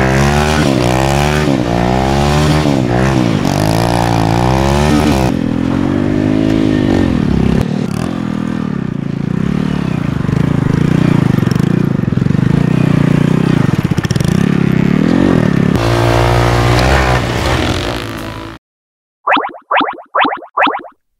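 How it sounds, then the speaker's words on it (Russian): A motorcycle engine revs loudly and close, its pitch climbing and falling through several throttle bursts with clattering mechanical texture, then cuts off, followed by a few short high electronic chirps. "Это мотоцикл."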